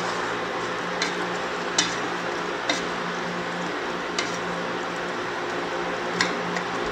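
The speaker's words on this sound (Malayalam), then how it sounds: "നന്നായിട്ട് എണ്ണ ഇളക്കി" Oil being stirred into a pot of beef curry with the gas turned off, soft sizzling hiss under faint, sparse ticks of the spoon against the pot.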